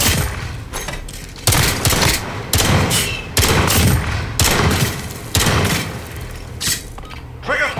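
In a Modern Warfare 3 match, loud close gunshots hit in a series of heavy booming blasts about a second apart, each with a rumbling tail, alongside mechanical clatter.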